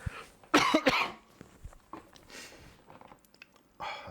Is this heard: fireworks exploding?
no